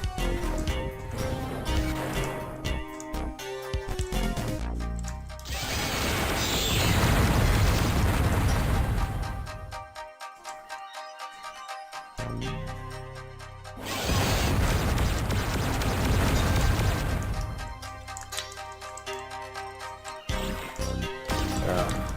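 Homing missile explosions in the Descent video game: two long, loud booming bursts, each a few seconds long with a rumbling tail, separated by a quieter gap, set against steady game music and tones.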